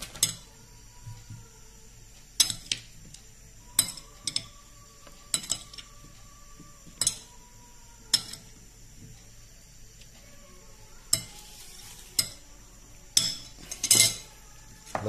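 Sliced pork salad is tossed with tomatoes and onions in a bowl: a quiet room broken by a series of sharp utensil clinks and scrapes against dishware every second or two, growing busier toward the end, with no voices.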